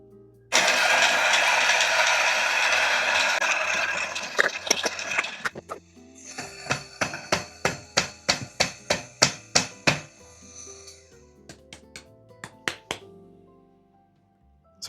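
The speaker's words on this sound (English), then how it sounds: "we'll grind them at 40 steps on the E55 Pro" Coffee beans ground on an E55 Pro grinder at a fine setting: a loud, steady whirring grind for about five seconds, then a run of sharp, evenly spaced knocks and taps, fading into lighter clicks.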